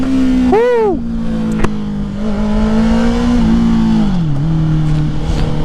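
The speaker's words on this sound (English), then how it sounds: "it's like pretty decently loud pops" A Honda CBR 650R motorcycle fitted with a new full exhaust revs sharply once, then drops to a loud, close, steady idle with crackling pops and burbles, the pitch sagging slightly near the end.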